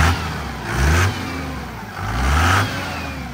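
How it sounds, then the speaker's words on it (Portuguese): A Ford F250 XLT pickup truck, tuned to over 400 horsepower, revs gently twice from idle, each swell rising and falling back to a low rumbling idle, close and clear with no talk. "Acelera devagar. Acelera lá pra nós."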